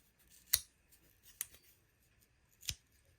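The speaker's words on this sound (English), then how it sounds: "Man, listen to that spring." Backspring of a 1978 Camillus US military folding knife snapping as the blade is worked, three sharp metallic clicks spaced unevenly, close and crisp against a quiet room.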